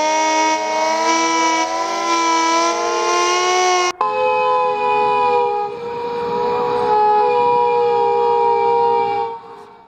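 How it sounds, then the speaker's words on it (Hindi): Loud civil defense sirens wail during a mock-drill blackout, steady layered tones holding for several seconds before a brief cut and a second siren continuing with a slightly shifting pitch, then fading out at the end. "एकाएक सायरन बजने लगे।"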